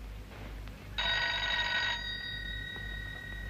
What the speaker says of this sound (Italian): Prima risponda al telefono.